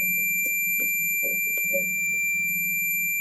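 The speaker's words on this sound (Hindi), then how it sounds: "और मल्टीमीटर में इसका बीप साउंड आएंगे" A multimeter in continuity mode, with its probe on a MOSFET drain on a computer motherboard, gives a continuous, loud, high-pitched beep with light handling clicks and a low hum underneath.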